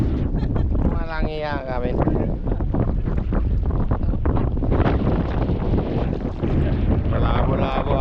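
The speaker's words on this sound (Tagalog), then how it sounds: "Malabo-labo ang hangin mga tangay. Ang hangin na yun." Strong wind roars across the microphone beside a boat out on the water, a steady loud rush that runs the whole time while a person talks over it.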